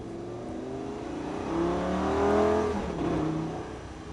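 A Lamborghini Gallardo accelerating during a track driving course, its engine rising in pitch and swelling in loudness, then easing slightly before climbing again as it shifts up a gear, close and without talk.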